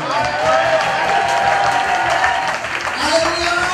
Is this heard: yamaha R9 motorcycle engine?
no